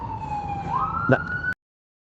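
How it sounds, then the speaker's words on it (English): A loud ambulance siren passing close on a street in the southern US, one rising wail that cuts off abruptly, with no talk over it. "There's one of them ambulances going by, and he's loud."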